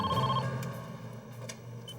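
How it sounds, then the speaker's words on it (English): An old-style telephone bell rings indoors, fairly faint, with steady repeating tones over low room hum and no talking. "Later that night, the phone rang."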